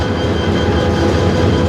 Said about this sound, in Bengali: ওই ট্রেনটি রেখে ইঞ্জিনগুলো এই ঢাকার শেডে চলে আসে।